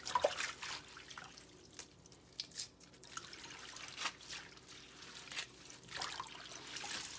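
Running water trickles and drips into a sink while collard greens are washed, a faint, uneven splashing with soft irregular bursts and no voices.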